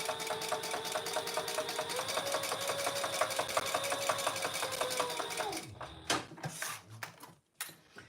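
Sewing machine top stitching a Roadie bag runs steadily for several seconds under quiet background talk, then stops, leaving handling clicks.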